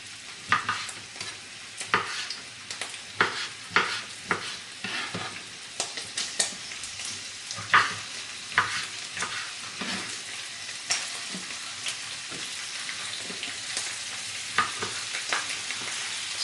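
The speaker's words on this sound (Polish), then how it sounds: "Obsmażamy serca, a później dodamy cebulę i paprykę." Hearts fry in a pan with a constant sizzle, broken by repeated scraping and stirring strokes at a steady rhythm, close and fairly loud throughout, with no voices.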